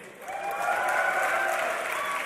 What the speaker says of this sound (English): I want to see who here is cheering for Fnatic.